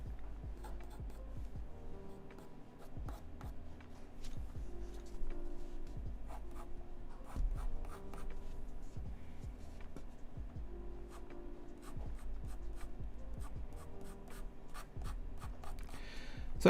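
A pencil scratches across paper during a live portrait sketch of Thor, with close, quick, repeated strokes and rubbing in an irregular rhythm over quiet background sounds.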